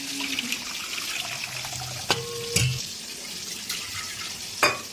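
A hot tempering of spices (phoron) is stirred into cooking dal, giving a steady hissing sizzle with a few clinks of utensils against the pot.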